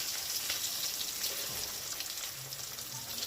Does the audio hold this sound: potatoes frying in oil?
yes